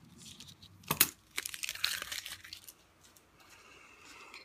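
Small vinyl transfer tape pieces peeled up and cleared away after cutting, giving a few brief crinkly tearing rips close up, with a quieter rustle trailing off afterward.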